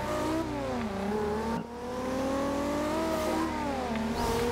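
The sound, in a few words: racing car engine in video game Forza Horizon 2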